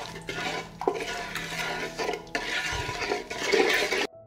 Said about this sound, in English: I will stir and wait for the marinade to boil.